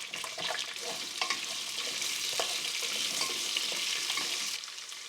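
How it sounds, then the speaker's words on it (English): Carrots, onions and garlic sizzle and fry in a pan, a steady close hiss broken by scattered sharp stirring clicks and scrapes, continuing evenly before easing slightly at the end. "Then sauté the vegetables,"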